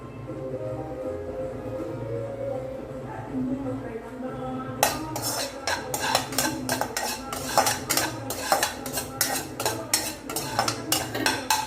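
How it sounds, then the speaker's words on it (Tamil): Cashews frying in ghee in a pan are stirred with a metal spoon, making rapid, repeated clinking scrapes against the pan. A low background hum comes before the stirring starts and continues under it. "இங்கே பார்த்தீங்கன்னா முந்திரி பருப்பு வறுத்துட்டு இருக்கேங்க"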